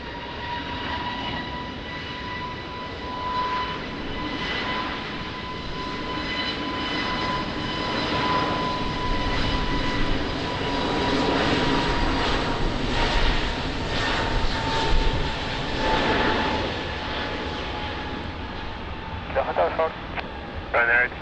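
Airliner approaching runway 20 at Lisbon Airport in rain, a steady distant engine roar swelling gradually under radio chatter from the tower and pilots.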